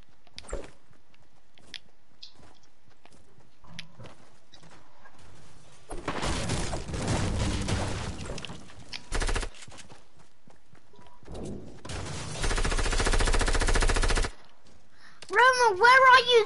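Video game gunfire comes in harsh bursts of rapid automatic shots, loud and close, separated by quiet gaps, with a few voices speaking near the end.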